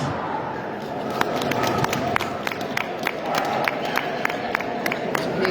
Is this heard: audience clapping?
yes